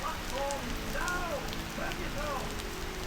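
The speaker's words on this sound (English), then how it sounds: "it's pouring rain like for 15 minutes" Heavy rain pours steadily in Singapore, a dense continuous hiss of drops on surfaces, fairly faint, with some faint tonal sounds and murmuring voices underneath.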